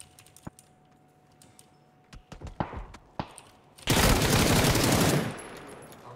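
A quiet scatter of sharp game gunshots, single cracks building into a dense, loud burst of rapid automatic fire lasting over a second, then fading.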